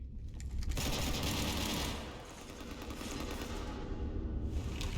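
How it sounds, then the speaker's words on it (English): Continuous rapid gunfire in Mass Effect 3 as someone shoots up a ship, a dense loud rattling stream of shots that dips briefly and then resumes, close and alone without speech. "You want to stop shooting up my ship?"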